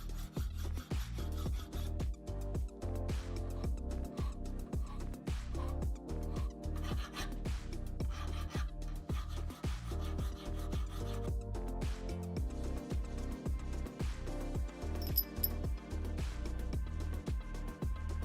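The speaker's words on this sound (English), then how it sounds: "I used some hand files on the outside of the nuts and bolt head to get rid of the visible layer lines from the 3D" Hand files rasp over 3D-printed plastic nuts and a bolt head, smoothing away layer lines in a steady run of quick back-and-forth rubbing strokes, close and continuous with no talking.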